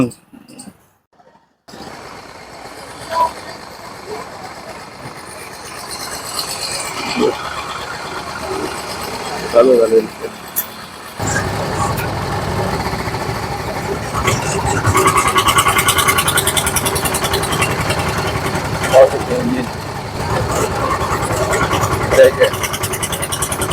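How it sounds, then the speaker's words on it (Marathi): An old vintage auto rickshaw engine runs steadily with a rough, broadband mechanical rumble that grows louder midway, while people talk over it throughout. "खतरनाक गाडी बघा कधी न पाहिलेली रिक्षा"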